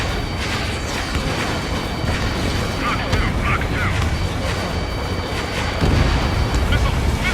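Missile-hit explosions in the Ace Combat 7 jet-combat video game: continuous rumbling booms and blasts layered in a dense mix, swelling louder toward the end.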